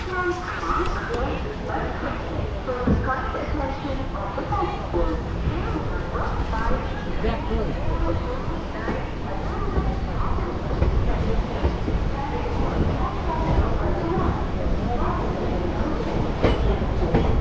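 A local passenger train from Sealdah toward Malda Town runs past Azimganj City, giving a continuous rumble of wheels on the rails and a rattling carriage, with voices talking inside throughout.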